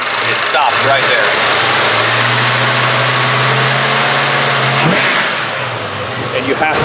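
A 1965 Ford Mustang engine revs with a throttle that sticks just off idle, a rough mid-pitched rise that holds steady and then drops away near the end, with a voice talking over it.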